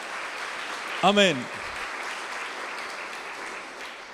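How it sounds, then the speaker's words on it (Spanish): Church congregation applauding the Lord with steady clapping throughout, while a voice speaks briefly over it. "¿Cuántos le pueden dar un aplauso al Señor en esta hora?"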